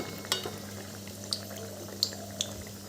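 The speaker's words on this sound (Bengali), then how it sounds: "লো টু মিডিয়াম ফ্লেমে এই কচুরিগুলোকে একটু ভেজে নিচ্ছি" Potato-stuffed kachoris frying in oil over low to medium flame, a soft steady bubbling hiss broken by a few sharp spattering pops.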